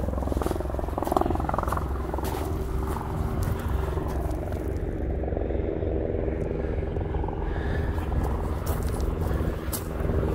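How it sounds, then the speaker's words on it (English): Several helicopters flying above the new Meradalir lava field in Iceland, a steady low rotor rumble that persists throughout, with voices talking over it. "At least three helicopters flying right now."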